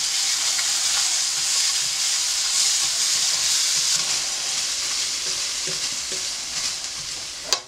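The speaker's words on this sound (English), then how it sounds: "as you fry the meat in it" Meat for goulash fries in a pan with a loud, steady sizzle and hiss that carries on with no break and ends with a small clunk.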